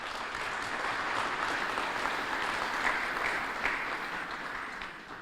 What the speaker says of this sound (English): So a round of applause for everybody